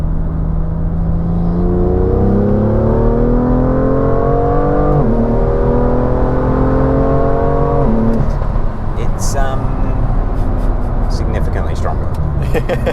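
A Stage 2 BMW M2 with an N55 engine on full E85 accelerates hard through several gears, its rising engine note climbing, dropping at each shift and climbing again, loud and close from inside the car, ending in brief clicks.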